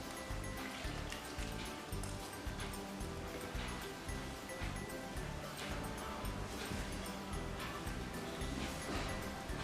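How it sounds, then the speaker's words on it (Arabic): Water pours steadily into a dough mixture for Moroccan honey-coated grawch (chhiwat) made without butter, a continuous close splashing rush that lasts the whole stretch without pause. "غنبدا نزيد الماء"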